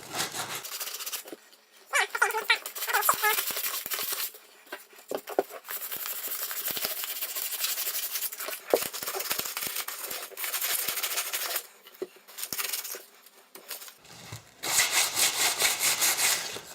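The metal of a 20 gauge shotgun is scratched up before painting, with close, irregular scraping and rubbing bursts separated by short quiet gaps.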